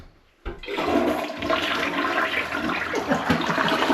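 A newly installed toilet in a remodeled cabin gives its first flush, starting abruptly after a brief quiet moment and continuing as a loud, close rush and gurgle of water with no talking.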